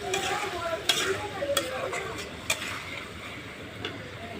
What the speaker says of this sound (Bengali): এখন টমেটোটা এই যে কষানো হচ্ছে